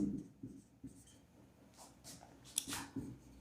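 A pen writing an answer by hand on paper in a quiet room, faint intermittent scratches and strokes in short irregular bursts.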